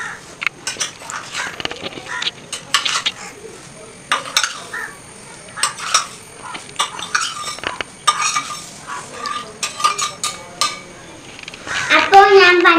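Flattened rice being mixed with grated coconut and sugar in a bowl by kids, close spoon scrapes and clinks against the dish in irregular bursts, with a few background sounds.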